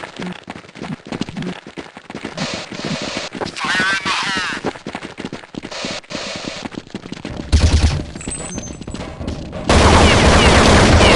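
Galil rifle bursts in Counter-Strike 1.6, rapid loud shots packed into dense strings across the clip with a louder stretch near the end, mixed with game effects and someone talking over them.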